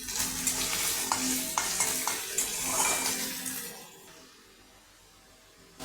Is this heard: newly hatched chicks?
no